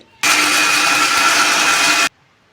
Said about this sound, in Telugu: ఇవి మిక్సీ పట్టుకోవాలి